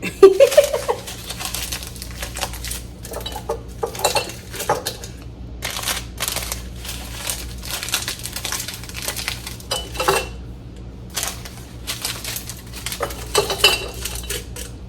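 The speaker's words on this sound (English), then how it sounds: "Take the pot, squeeze it up in there." Kitchen handling of a cooking pot and dishes at home: a string of close clanks, clinks and knocks of pots, plates and cutlery set down and shuffled, irregular bursts with quieter gaps between.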